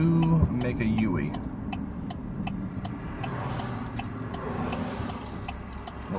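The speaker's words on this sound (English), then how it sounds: "There is a lot of traffic up here." Busy road traffic with cars passing, heard from inside a vehicle. Steady engine and tyre rumble runs under continuous talk, with a few light ticking clicks.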